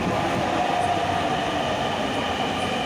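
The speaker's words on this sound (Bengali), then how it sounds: "দেখি মেট্রো চলে আসছে আমার" A metro train pulling into an elevated Dhaka metro rail station, a continuous loud rumble and rail hum with a faint high whine, heard close by from the platform.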